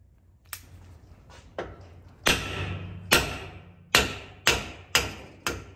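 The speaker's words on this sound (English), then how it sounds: "Just needed a bigger hammer." A hammer strikes a GM 8.6 rear axle part about seven times, hard sharp metallic blows that grow heavier and more regular, each ringing briefly, close and loud in a quiet workshop.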